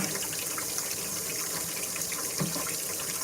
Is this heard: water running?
yes